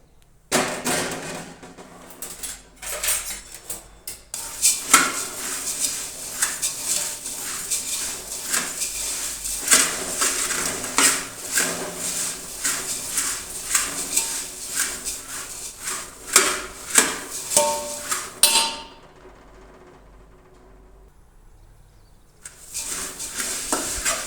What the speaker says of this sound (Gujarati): થોડાક આપણે મમરાને શેકી લેશું બેથી ત્રણ મિનિટમાંથી